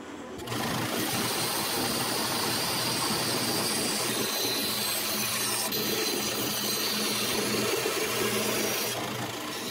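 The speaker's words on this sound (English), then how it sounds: "After cutting it out roughly on the bandsaw" Bandsaw roughly cutting the outline of a wooden cam in a home workshop, a steady loud buzzing whine with continuous cutting noise that runs unbroken for nearly ten seconds.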